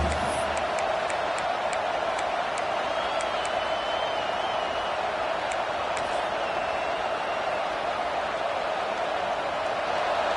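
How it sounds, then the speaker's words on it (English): A packed stadium crowd at an LSU football game roars steadily as the defense fights in the red zone, a dense, sustained wall of cheering and noise with a few faint whistles, continuous throughout. "the crowd coming to life here, trying to help this defense down in the red zone"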